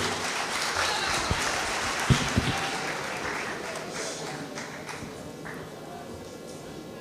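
An audience at the Lagos State governorship debate applauds the APC candidate Akinwumi Ambode, with sustained clapping from many hands that holds steady for several seconds and gradually eases.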